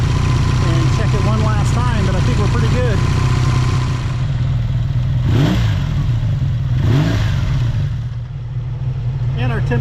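A Honda VF750 motorcycle engine idles steadily with a low, even throb after its carburetors are synced, with a couple of brief throttle blips midway before settling back to idle.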